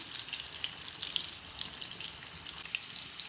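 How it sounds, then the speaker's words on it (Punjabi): Stuffed round gourds (tinda) fry in a pan with a steady, close hiss of oil, crackling and popping with small bright spits throughout, no voices. "ਸਾਰੇ ਸਾਈਡਾਂ ਤੋਂ ਉਹਨਾਂ ਨੂੰ ਇਸੇ ਤਰ੍ਹਾਂ ਹੀ ਸੇਕਣਾ ਹੈ ਇਸੇ ਤਰ੍ਹਾਂ ਫਰਾਈ ਕਰਨਾ ਹੈ ਇਹਨਾਂ ਨੂੰ"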